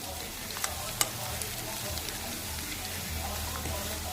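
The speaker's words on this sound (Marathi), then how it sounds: "हे खोबरं आणि हिरवी मिरची आपण व्यवस्थित परतून घेऊ" Grated coconut and green chillies are sautéed in a pan over medium heat, giving a steady, close sizzle with a few faint scrapes and clicks from stirring.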